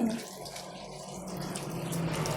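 Water runs from a tap in a steady, soft rush while hair is being rinsed, with a faint tonal hum in the background.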